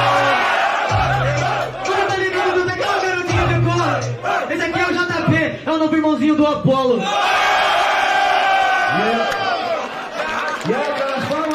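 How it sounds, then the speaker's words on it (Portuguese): A crowd at a Portuguese-language rap battle roars and cheers loudly around the rappers. Several voices shout and chant over a dense, steady wall of noise, and a voice speaks briefly near the end. "pelas palmas, todo mundo, obrigado"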